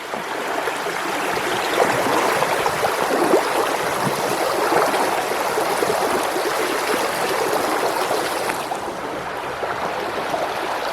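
A hiker wades through a cold mountain stream near a waterfall, with a steady rush and splash of flowing water close by and no voices.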